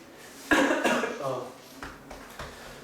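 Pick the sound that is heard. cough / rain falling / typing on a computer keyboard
cough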